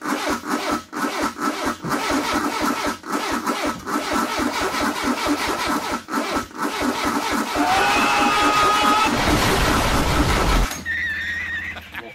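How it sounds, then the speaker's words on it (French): A Peugeot 205 cranks with the accelerator floored, a loud rhythmic starter churn with irregular pulsing that rises into a brief surge of engine noise, then drops to a lower steady running hum. "démarrer accélérateur au plancher sans pomper"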